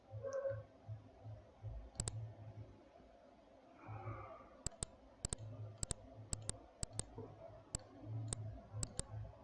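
Sharp mouse clicks on a computer during spreadsheet work, mostly single clicks with a few quick pairs, spread unevenly over a low steady hum with no talk.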